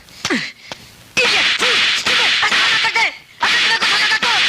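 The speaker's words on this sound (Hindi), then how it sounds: "हीरोइन को यह थप्पड़ इनकी ड्राइवरी की वजह से नहीं बल्कि इसलिए पड़े हैं क्योंकि सल्लू भाई तो इनसे प्यार करते हैं" Sharp slaps in a Hindi movie scene, several loud cracking hits in an irregular series over a bright, noisy music and sound-effects bed, with no talk.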